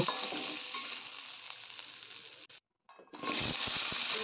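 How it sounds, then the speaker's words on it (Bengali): Oil sizzles and crackles loudly as pointed gourd pieces fry, with brief stirring scrapes and a short pause before the frying resumes. "নেড়ে চেড়ে পটলগুলোকে খুব সুন্দর করে ভেজে নিয়েছি"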